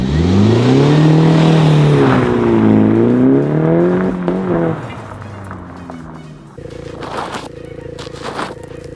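A car doing skids on a property, engine revving and rising and falling in pitch for several seconds, then a rougher lower idle with scraping bursts; loud and close.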